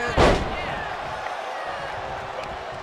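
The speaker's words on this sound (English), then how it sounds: "The sound of this crowd is deafening and he's asking for more." Roaring arena crowd in the WWE 2K23 wrestling video game during a Bray Wyatt versus Roman Reigns match, a constant loud wash of cheering opened by a sharp slam, with a commentator talking over it.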